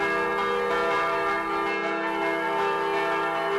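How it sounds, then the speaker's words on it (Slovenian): Slovenian church bells ring in pritrkavanje style from a bell tower, a dense, continuous wash of loud, ringing metallic strikes and sustained tones with no voices. "Pritrkavanje lahko iz cerkvenih zvonikov slišimo ob božiču, veliki noči, novem letu, ob bermah in obhajilih ter nekaterih državnih praznikih."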